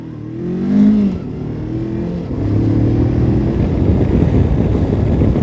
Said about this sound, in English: Let's try some heavier acceleration.